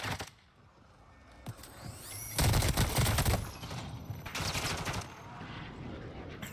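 Gunfire in the Warzone 2 video game, with a few isolated shots followed by sustained bursts of automatic fire at moderate distance, mixed with other game noise.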